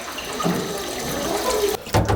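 Hot water runs steadily from a tap into a basin for soaking laundry with soda ash, a close, continuous gush that briefly cuts off and surges again near the end.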